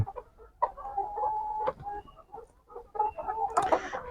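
Layer hens on a cage-free farm clucking in a steady run of calls, a few sharper squawks rising near the end, close and without talk.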